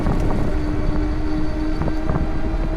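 Tiniover River folding full-suspension electric recumbent trike running on throttle only over flat paved ground, a steady motor whine with a constant tone under loud rushing wind, continuous and close for a few seconds.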